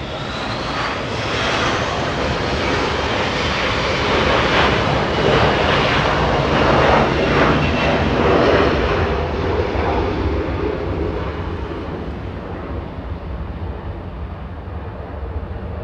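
A Delta Airlines A321 airliner departing Los Angeles International Airport, its engine roar swelling to a loud, steady rumble and then slowly fading as it moves away.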